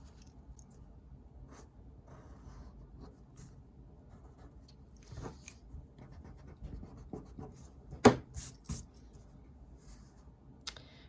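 Pencil or marker strokes scratching across paper while SpongeBob's shorts, legs and shoes are drawn, faint and close with soft scattered scraping and a few sharper taps, no talking.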